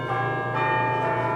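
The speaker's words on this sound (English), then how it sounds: "Then he heard the church bells striking." Church bells strike in a sustained, ringing tone with a long resonant hum, loud and steady, with no voices.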